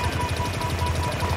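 Rapid automatic gunfire from a video game at a LAN party: a fast, even stream of shots repeating throughout at steady loudness.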